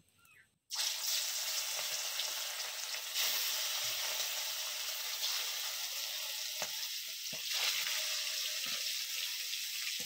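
Hilsa fish with black cumin seeds frying hard in a pan, a loud, steady close sizzle that bursts in abruptly after a brief quiet start and crackles on without pause.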